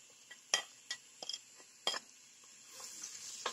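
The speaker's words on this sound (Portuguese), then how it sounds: "Agora eu vou refogar essa cebola." Chopped onion sautéing in hot oil in a pan with browned chicken for rice, a soft steady sizzle under a few sharp clinks and scrapes of a utensil against the pan.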